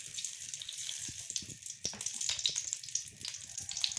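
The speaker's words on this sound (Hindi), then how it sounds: "घी डाल लेते हैं, तकरीबन 100 ग्राम हम घी डालेंगे।" About 100 grams of ghee heats in a clean pot on the stove for a chicken and pea curry, giving a quiet, uneven sizzle with scattered crackles and pops.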